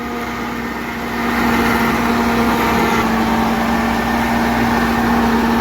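A large 4x4 tractor engine runs steadily and loud during corn silage making, a constant droning hum with a strong low tone that swells slightly after the first second and then holds even, with no talk.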